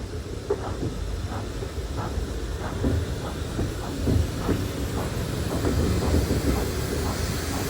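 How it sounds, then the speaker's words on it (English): LSWR steam locomotive at a West Somerset Railway autumn steam gala, a steady rhythmic chuffing and clatter of wheels over rail joints, moderately near, with wind rumble beneath. "this is the LSWR locomotive. This came down from Swanage"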